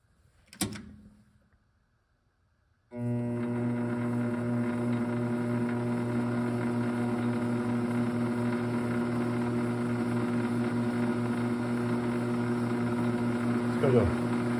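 A brushless motor set to roughly 500 RPM spins with a steady, even tonal hum and whine after a short click, holding constant close by for over ten seconds.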